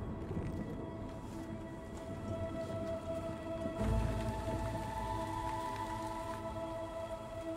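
Soft, steady patter of rain falling outdoors, a continuous gentle wash with a low rumble swelling briefly midway.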